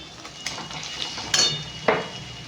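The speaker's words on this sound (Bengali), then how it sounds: "এবার এতে আদা রসুনটা দিয়ে দেবো" Ginger garlic paste dropped into onions frying in a pan, with a few sharp metallic clinks and scrapes of a utensil against the pan over a steady low sizzle, close and moderately loud.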